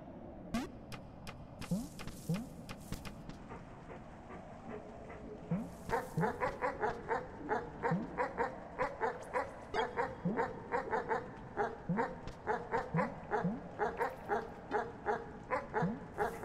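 A dog barks in a video game, at first in scattered yips and whimpers, then in a steady run of loud, evenly spaced barks, with no one talking.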